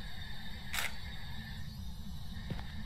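Camera shutter in Phasmophobia snapping a photo: one sharp click early, then a second fainter click about two seconds later, over a steady low hum of game ambience.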